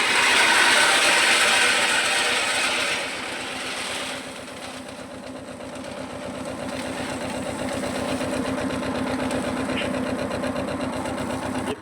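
A tractor engine runs steadily while a seed drill sows a field, a continuous mechanical chugging with rapid rhythmic clatter, loud at first, dipping slightly, then holding steady with no voices.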